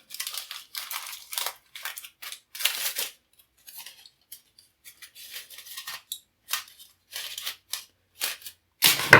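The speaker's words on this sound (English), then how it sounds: "take a piece of foil and shape it" A piece of aluminium foil is crinkled and shaped by hand in a string of close, sharp crackling bursts separated by brief pauses, with no voices.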